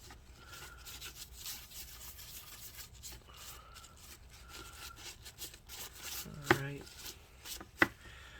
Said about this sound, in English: Rub out all the thermal paste, okay? Just like this.